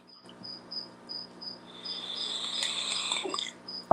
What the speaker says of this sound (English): I got a little cricket box, probably about 20 feet away from me, so that's probably what you're hearing.